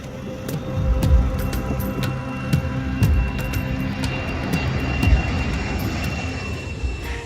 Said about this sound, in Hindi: फिर विमान 8000 किलोमीटर से भी ज्यादा लंबी उड़ान भरते हुए भारत के लिए निकल पड़ा